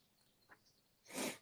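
A single short, breathy sneeze bursts out near the end, preceded by faint rustling and a quiet sniff in an otherwise hushed room.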